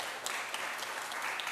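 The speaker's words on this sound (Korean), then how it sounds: "또 수고해 주신 우리 양소희 작가님께 다시 한번 큰 박수" Audience applause for a writer at a Korean tourism and culture forum in Gochang, a soft, dense patter of many hands clapping at a distance, steady and brief.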